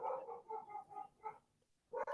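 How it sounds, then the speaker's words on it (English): A dog barks downstairs in a house: a run of muffled, moderately distant barks in a loose rhythm, a short pause, then two more, with no talking over them. "my dog's barking downstairs"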